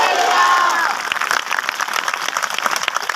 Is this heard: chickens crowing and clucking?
no